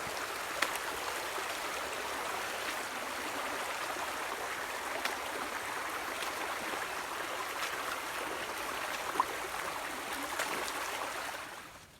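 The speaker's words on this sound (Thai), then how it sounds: "ตอนนี้ผมก็ได้เดินมาเจอลำธารเล็กๆนะฮะ น้ำสายเลยนะครับ" A small forest stream flows steadily nearby, a continuous close rush and babble of water with faint splashes, heard alone with no voices until it fades at the end.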